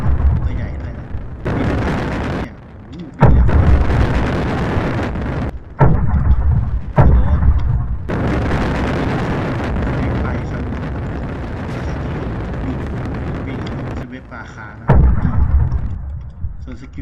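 Cannon fire in the Roblox game Skibidi Verse from a Titan Speakerman: a run of loud, booming game blasts with sharp onsets and brief gaps between them, with no talk over the shots.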